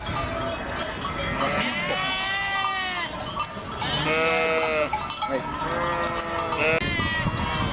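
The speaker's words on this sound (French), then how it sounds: "Donc elles sont à peu près 200 brebis avec les agneaux" Flock of about 200 ewes with lambs on a transhumance through town: dense overlapping bleating from many sheep at once, with clanking bells and a busy crowd murmur underneath, loud and continuous throughout.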